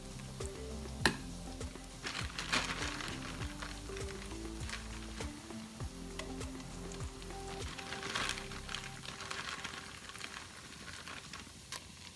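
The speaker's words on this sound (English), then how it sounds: "And we're going to sear these for 10 minutes." Stew meat searing in oil in a Dutch oven, a steady soft sizzle and crackle throughout with occasional clinks and knocks from utensils, fairly quiet and close.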